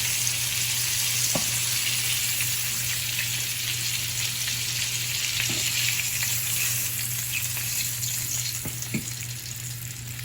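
Ghost pepper chicken tenders sizzle steadily in hot oil in a skillet, a loud continuous crackling hiss with a few faint pops, no speech.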